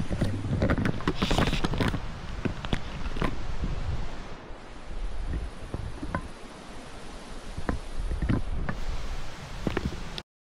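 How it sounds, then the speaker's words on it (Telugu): Strong wind gusting outside at night, a steady loud roar with buffeting and occasional creaks, close to the microphone and continuous throughout without any voices. "ఫుల్ గాలి వస్తుంది బయట"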